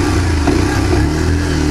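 Loud, close exhaust note of a 2024 Bajaj Pulsar 125 motorcycle, a steady, dense engine rumble held at high volume for a short burst with no talk.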